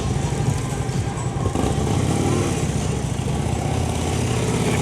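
A police motorcycle weaves through a tight cone course during a county police block party demonstration. Its engine gives a steady, close, continuous drone over a few seconds.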